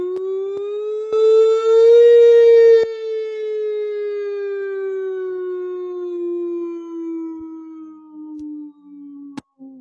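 A voice imitates an ambulance siren in a children's music session, one long sustained wailing tone that rises slightly and then slowly falls over about nine seconds.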